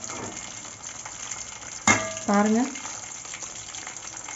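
Chicken pakoda pieces deep frying in hot oil for a roadside-style snack, a soft steady sizzle underneath while a voice speaks briefly and a sharp clatter cuts in midway.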